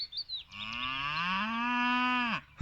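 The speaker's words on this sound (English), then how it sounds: "They're roaring because there's cattle across the river." A Galloway Shorthorn bull gives one long, loud bellowing roar, close by, rising and holding steady before cutting off, with a couple of short grunts just before it and no talking.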